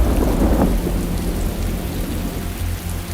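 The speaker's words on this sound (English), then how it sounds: "The rain starts heavily meanwhile." Heavy rain with a low rumble of thunder, a dense steady hiss of downpour under a deep roll that swells at the start and fades.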